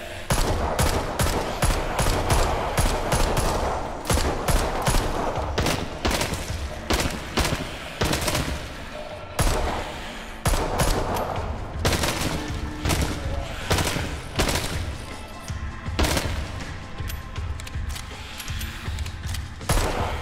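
Rapid, loud gunfire from the zombie shooter video game Arizona Sunshine goes on almost without a break, as repeated sharp shots pile into dense volleys with only brief gaps.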